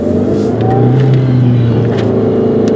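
A silver 2002 Kia Spectra with a manual clutch drives along on a test spin, its engine a loud, steady, close-up drone that rises slightly in revs, with no talking.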